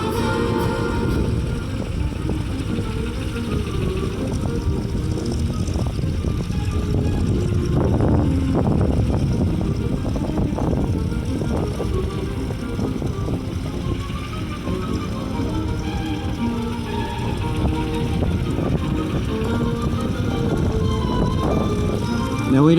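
A Continental 220 radial engine on a Navy-painted Stearman biplane runs at an airshow, a steady, loud, rough drone that continues unbroken with no clear pauses.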